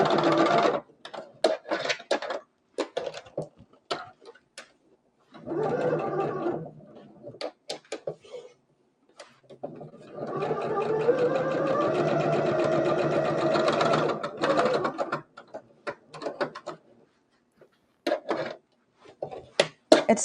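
A sewing machine stitches a chenille leaf trivet in stop-start runs, short rapid bursts and one long steady whir, close and clear with no talking.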